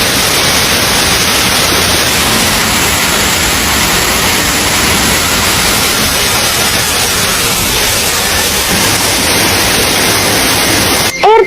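A waterfall near a field where water spinach was picked, a loud, unbroken rushing roar of falling water that fills the whole scene from start to finish.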